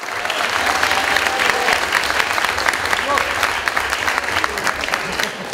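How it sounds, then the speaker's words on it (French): Applause from the audience at a student eloquence contest final greets a candidate, a dense, steady roar of many hands clapping close by for several seconds, with a little crowd murmur mixed in. "Et un tonnerre d'applaudissements pour Baptiste"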